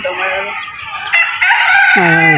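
Farmyard chickens and a rooster close by, loud overlapping crowing and clucking packed into a short burst, with hens calling throughout.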